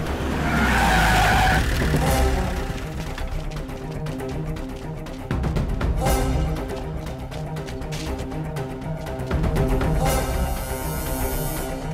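Car tires skid and squeal as a vehicle stops hard in a dramatic film scene. Loud, harsh bursts recur over a roaring engine and road noise.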